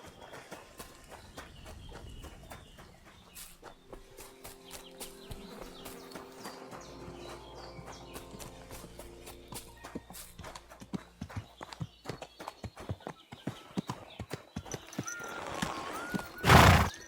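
Horse hooves clip-clopping in the Kingdom Come Deliverance II video game, a steady walking rhythm growing louder and ending in a sharp loud neigh, with faint background ambience.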